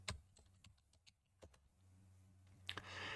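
Computer keyboard being typed on in a short search: a handful of scattered quiet key clicks, faint and close, followed by a rising hiss, no talk.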